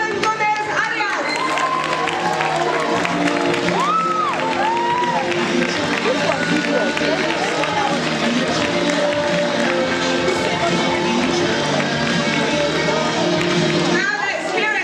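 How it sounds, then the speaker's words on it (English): Audience applause and cheering at a youth public-speaking challenge event in London, a dense, steady roar of clapping and crowd noise with voices mixed in throughout. "keep that applause rolling for Simon Gomez Arias."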